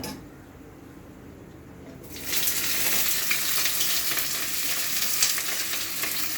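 Bay leaf and cinnamon dropped into hot oil for a mutton kosha curry, a quiet pan that bursts into loud, steady sizzling after about two seconds and keeps crackling closely, with no voices.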